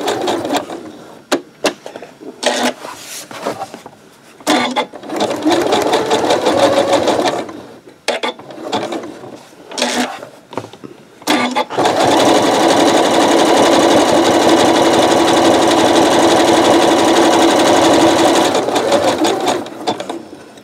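A sewing machine stitches thread over the bottom of a rope bowl, first in short bursts with gaps, then running steadily and loudly for a long stretch close by.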